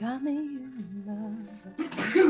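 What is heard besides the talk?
sneeze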